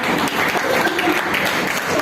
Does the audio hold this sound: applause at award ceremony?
yes